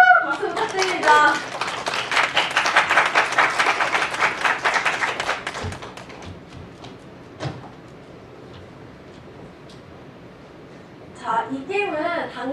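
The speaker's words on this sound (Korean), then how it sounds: "박수 부탁드립니다." Audience applause at a talk on multiculturalism, as volunteers are called up to help demonstrate a game; dense clapping swells loudly for several seconds, then thins to a few scattered claps and room noise before talk resumes at the end.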